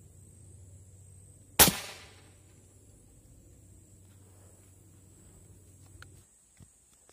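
A single sharp speargun shot goes off during a spearfishing session in Papua, a loud abrupt crack with a short decaying tail, followed by quiet ambient hum and a couple of faint clicks.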